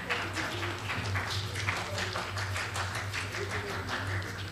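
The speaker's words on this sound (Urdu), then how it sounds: "اور آپ تالیاں بجائیے نا صاحب" Audience at an Urdu mushaira poetry evening in Aurangabad applauding steadily, a dense, moderately distant patter of many hands that holds throughout.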